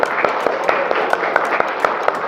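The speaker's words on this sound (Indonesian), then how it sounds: "Tepuk tangan dulu biar semangat, yuk." A class of students claps in an even, rhythmic beat to cheer on a group stepping up to present in a mathematics lesson. The claps are close and regular, with voices underneath.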